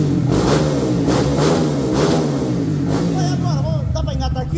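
Honda Fan 160 motorcycle fitted with a quickshifter and a Hornet piston, revving hard with a steady loud engine drone that swells in repeated surges, while someone talks over it throughout.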